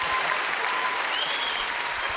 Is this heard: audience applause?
yes